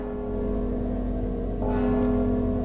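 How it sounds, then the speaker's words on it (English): A bell rings in the stealth video game Mark of the Ninja, a sustained, resonant tolling tone that holds steady and swells slightly partway through, with no voices over it. "Don't you hear the bell?"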